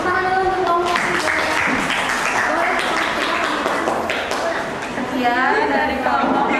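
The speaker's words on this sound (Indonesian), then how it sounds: "tepuk tangan dulu untuk kelompok 3" Classroom applause for a student group after its presentation, a burst of clapping mixed with chatter and voices talking over it.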